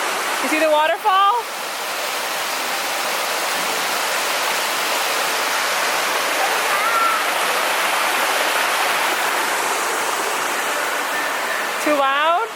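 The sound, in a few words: indoor waterfall at Bass Pro Shops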